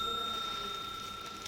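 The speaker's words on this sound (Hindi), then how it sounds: "लाल वाली बटन दबाओ और घंटी बजा दो।" A bright bicycle-style bell rings in a sustained, steady tone, two clear pitched lines holding throughout over a faint background hiss, prompting viewers to subscribe.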